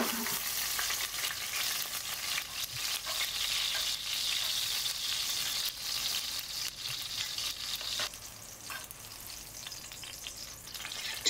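Eggplant pieces sizzle in hot oil in a pot, a steady, dense crackling fry that runs for several seconds, then drops quieter before a sharp clatter at the end; no talking.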